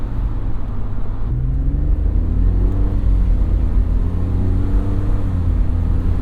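A 2006 BMW 330Ci E46 engine runs with a loud, close, smooth hum. Its pitch rises and falls gently as it revs lightly while driving, with no speech.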